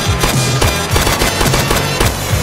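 Video game gunfire in a rapid, steady string of sharp crackling bursts, loud and close with a booming low thud on many shots, continuing without pause.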